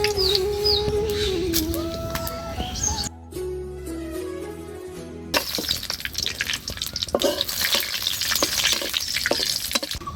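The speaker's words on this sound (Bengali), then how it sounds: "এবার আমি পরিমাণ মতো পাঁচফোড়ন দিয়ে দেবো।" Dried chilies, bay leaf and panch phoron dropped into hot oil in a village kitchen, giving a steady close sizzle and crackle with clinks of stirring, a brief quieter gap midway, then louder, busier frying with birds faintly in the background.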